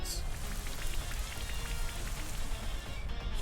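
Steady rain from the Rain Dance move in a Pokémon battle game, a dense even patter of drops on a surface that runs loud and unbroken throughout.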